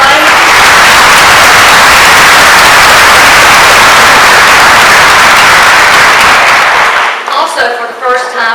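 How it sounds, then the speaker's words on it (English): Audience applause in an auditorium at a grand opening, a loud, dense wall of clapping that holds steady for several seconds, then fades as a voice begins speaking. "If you'll give him a round of applause for his beautiful playing."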